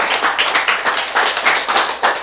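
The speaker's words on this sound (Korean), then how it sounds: "박수!" A church congregation claps hands together in a loud, quick, steady rhythm, each burst of claps sharp and close, repeating about every quarter second.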